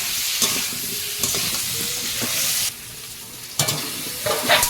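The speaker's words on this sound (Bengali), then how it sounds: "এবারে আলুটাকে একটু ভালো করে ভেজে নেব" Potatoes fry in hot oil in a pan for a katla fish curry with turmeric and salt in the Sundarbans, a loud continuous sizzle broken by several sharp stirring scrapes.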